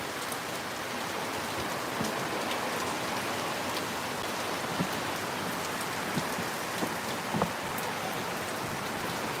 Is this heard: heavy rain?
yes